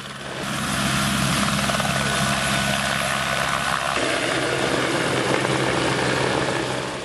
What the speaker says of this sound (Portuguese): Ronaldo, William e Mano Menezes entraram no helicóptero para se encontrarem com o presidente Lula.